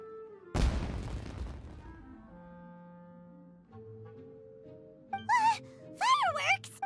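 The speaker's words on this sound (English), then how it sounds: "It sounded like fireworks." Fireworks burst loudly in a Lego-style video game: one sharp, heavy blast that crackles and fades over a couple of seconds, followed by lingering tones and then bursts of high, chirpy character voices.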